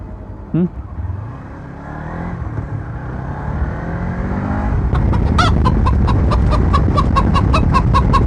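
Chicken by the roadside clucks in a quick, regular run of sharp calls in the second half, loud and near over the low rumble of an idling Kawasaki Z300 motorcycle, with one short call earlier.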